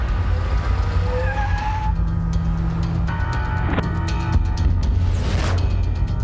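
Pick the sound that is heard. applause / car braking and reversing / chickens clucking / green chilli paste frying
car braking and reversing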